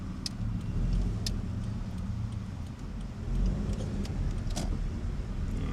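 A car is driven during a Florida driving test, heard from inside as a low, steady road and engine rumble with faint ticking and light rattles and no voices.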